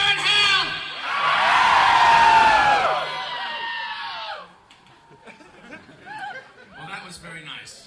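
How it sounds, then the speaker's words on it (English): Audience at a 1987 concert at Markthalle screams and cheers loudly as a crowd, swelling for about three seconds before fading into scattered shouts and laughter. "Please, ladies and gentlemen, scream as if you're in hell!"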